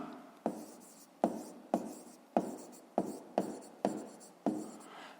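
Chalk or marker strokes on a board while working a fifth-grade math exercise, eight separate scraping strokes in a steady rhythm, each a sharp onset fading quickly, close and clear with no talking.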